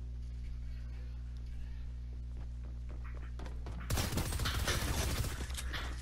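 Rapid bursts of gunfire from a shooting video game, quiet at first and then a dense loud barrage of shots, over a low steady hum.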